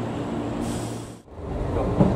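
A train departs Kiryu Station in Japan, rumbling along with a steady low drone and rolling hum, close by, the noise dipping briefly before building again.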